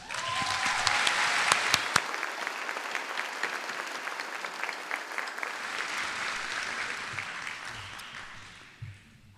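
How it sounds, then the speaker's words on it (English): Sustained applause from a large audience at the Flashpoint Chicago Class of 2019 commencement ceremony: dense, steady clapping that fills the hall for about eight seconds before tapering off, with scattered louder claps near the start. "Let's give them a round of applause."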